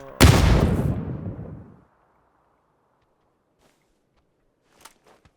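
Gunfire in the battle-royale video game PUBG (Battlegrounds): one loud, close, booming shot that rings out and decays over about a second and a half, followed by near silence and a few faint clicks.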